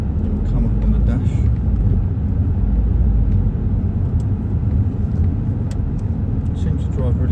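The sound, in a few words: car driving on road during test drive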